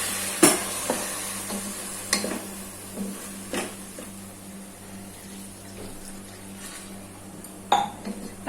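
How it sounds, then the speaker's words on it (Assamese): Egg keema mixed with water simmers in a pan while being stirred, with a steady low bubbling hiss broken by several sharp scraping clinks of a utensil against the pan. "সেইখিনি এতিয়া উতলি আছে"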